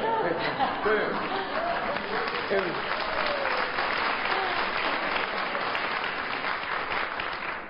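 Sustained audience applause at a child tax credit event in Greenville, steady and dense clapping from a large crowd filling the whole stretch without pause.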